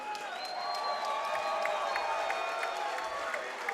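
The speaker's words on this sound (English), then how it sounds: "A big round of applause for these two warriors." A crowd at a cage fighting championship applauds and cheers two fighters after a bout, giving sustained clapping with whoops under an announcer's voice and a steady roar that holds for the whole stretch.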